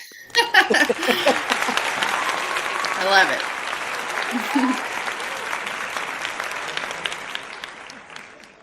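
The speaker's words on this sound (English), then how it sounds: "And more applause." A live podcast studio audience breaks into loud, sustained clapping and cheering to welcome a guest, with a whoop near the start and a voice speaking briefly over the applause as it carries on steadily.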